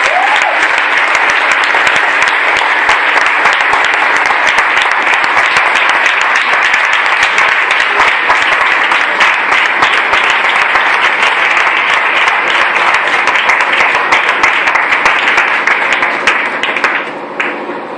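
A church congregation at a Sunday worship service claps together in sustained, loud, dense applause that holds steady for the full length before tapering off at the very end.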